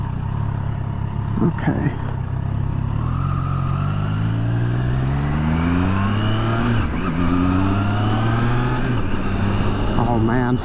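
A Triumph Tiger Sport 660 three-cylinder engine revs and accelerates through several rising pitch sweeps, loud and close, with a brief spoken word near the start.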